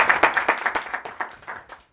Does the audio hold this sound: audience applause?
yes